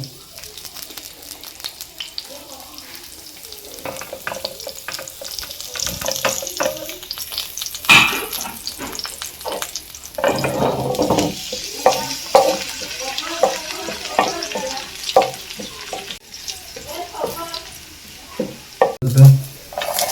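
Garlic and vegetables fry in a pan for veg spring rolls, with a spread of sizzling, scraping stirs and clinks of utensils, loud and close, plus a splash of running water.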